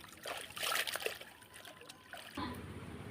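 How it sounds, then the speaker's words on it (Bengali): Leafy greens are swished and rinsed in pond water, producing soft, close splashes and trickling drips that rise and fall in short bursts. "শাকগুলো আমি পুকুরের জলে ভালো করে ধুয়ে নিচ্ছি।"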